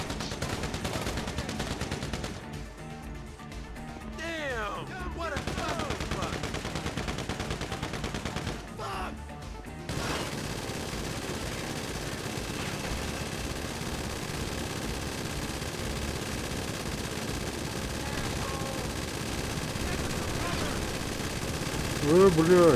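Video game gunfire crackles in rapid bursts and sustained volleys, like automatic weapons, steady throughout, with players' voices talking over it.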